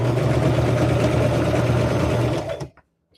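A sewing machine stitches a rag quilt with a steady, loud mechanical whir and hum that runs without a break, then stops abruptly and leaves near silence.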